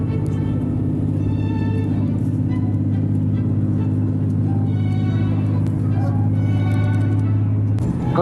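Super Hokuto limited express train running at high speed, a loud steady interior rumble with droning low tones and rattling that persists without a break.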